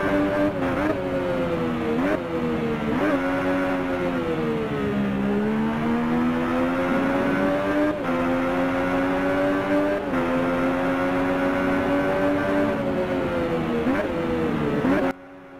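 A motorcycle in the RIDE racing game at Imola, ridden with a helmet camera view, gives a loud, sustained engine whine that rises and dips in pitch through repeated gear shifts as it gathers speed, with no voices.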